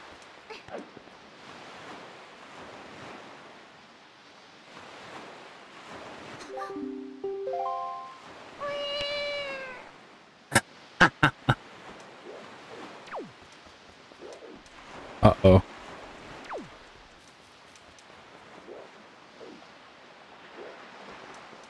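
A cat meows twice in the middle of the clip, rising cries heard over a steady background hiss, followed by a few sharp clicks and taps.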